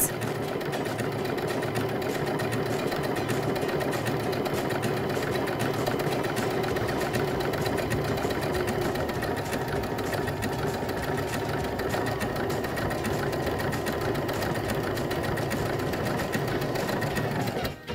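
A Baby Lock Brilliant sewing machine stitches two pieces of fabric together using a bridging plate, its needle mechanism whirring in a steady, fast, continuous rhythm at close range for the full stretch, with no talking over it.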